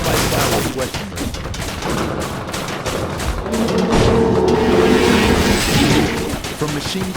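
Sustained heavy gunfire from machine guns and assault rifles in Culiacan, a dense, continuous crackling fusillade of rapid overlapping shots, loud and unbroken throughout.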